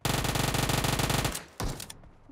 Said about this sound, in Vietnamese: Có tiếng súng bên đường luôn.